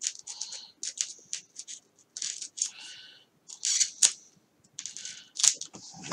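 Cutting out foam material to fit a plug on an FPV wing, a series of short, crisp snipping and scraping bursts in an uneven rhythm with brief pauses, close and alone.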